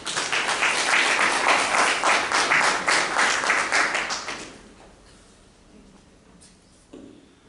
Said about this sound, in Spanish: un fuerte aplauso y comenzamos